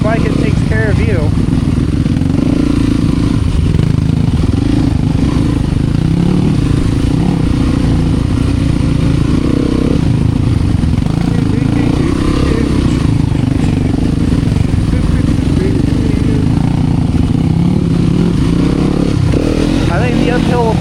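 An enduro dirt bike engine drones loud and constant on a woodland trail, its rough buzzing note wavering slightly with throttle, with a rider's voice talking over it throughout.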